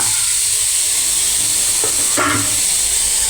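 Green chillies and tomato added to a hot pan for a green peas egg fry, giving a steady close sizzle and hiss with a few brief stirring clatters.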